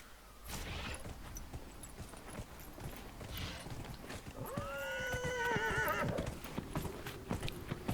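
A horse in the video game Dragon Age: Inquisition gallops with a steady clip-clop of hooves, then lets out a loud, drawn-out whinny of a second or so before the hoofbeats carry on.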